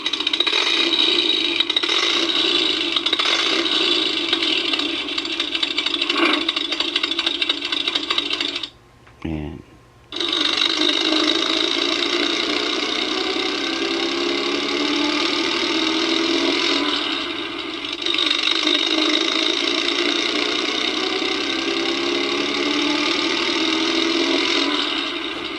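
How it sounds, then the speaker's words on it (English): A Hess toy truck, the 2018 85th Special Edition, plays its vintage engine motor sound effect, a loud rumbling, rattling engine loop that cuts out briefly and then starts up again and runs on steadily. "it makes some really cool vintage motor sounds"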